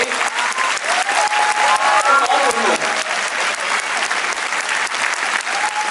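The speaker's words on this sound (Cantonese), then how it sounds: "希望可以咁多位再俾一次需要你嘅掌聲" A theatre audience claps loudly and continuously at the curtain call of a musical, a dense wash of applause with a few faint cheers, while a voice briefly speaks over it.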